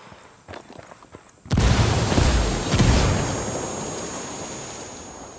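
A frag grenade blast in the tactical shooter Ghost Recon: a sudden loud boom with a broadband burst, then a second thump about a second later and a long rumbling decay. Faint footsteps come before it.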